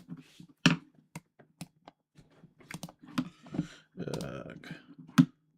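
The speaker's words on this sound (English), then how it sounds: "Sorry about the typing, guys." Someone types on a computer keyboard in a commentary setting at a kickball World Series game, with sparse, irregular clicks and taps, a few louder keystrokes, and a brief burst of muffled rustle.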